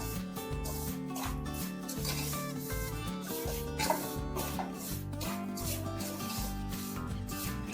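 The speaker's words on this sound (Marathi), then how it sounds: "थोडं थोडं तूप घालतच आपण रवा भाजून घ्यायचा" Semolina is roasted in ghee in a pan while a spoon scrapes and stirs it in a steady, soft rubbing rhythm, heard under background music.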